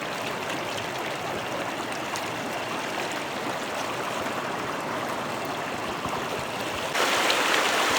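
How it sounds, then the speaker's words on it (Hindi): A fast-flowing stream used for traditional fishing, rushing water heard as a loud continuous wash close by, growing slightly louder toward the end. "पानी का स्पीड देखिए जरा, पानी का स्पीड, पानी का रफ्तार कितना तेज से पानी आ रहा है यहाँ से।"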